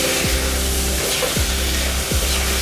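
String beans stir-fried in a hot pan after coconut milk goes in, with a steady loud sizzle and three spaced scrapes of a spoon stirring through the pan.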